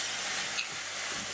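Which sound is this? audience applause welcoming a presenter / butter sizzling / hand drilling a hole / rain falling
butter sizzling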